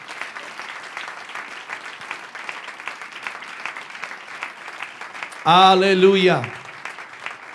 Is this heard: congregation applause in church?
yes